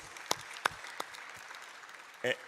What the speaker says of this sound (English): They need another round of applause, please.